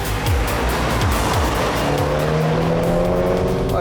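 A BMW 1 Series engine pulls hard under full throttle, a loud continuous roar with rising pitch through the revs and a shift partway through, close and steady throughout.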